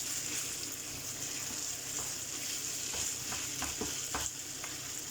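Minced meat sizzles and fries in a single pan for a potato and pea stew, with a spoon stirring it through, giving occasional soft scrapes and clicks over a steady quiet hiss.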